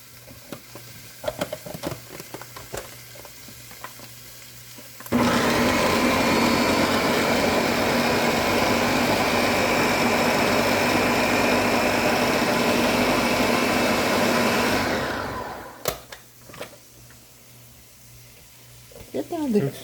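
A blender whirs loudly for about ten seconds, blending spinach and water for a cucumber and lime drink, starting abruptly and winding down, with small clatters and handling noises before and after.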